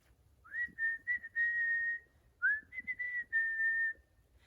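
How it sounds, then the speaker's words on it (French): A clear melodic whistle, two short phrases of rising and held notes, close and alone against near silence. "il se mettait à siffler"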